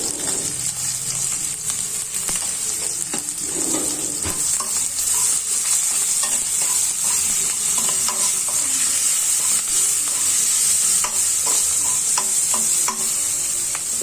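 Fenugreek leaves and rice seasoned with turmeric and salt sizzle steadily in a pan while a spoon stirs through them, with a continuous close frying hiss and scattered scraping clicks throughout.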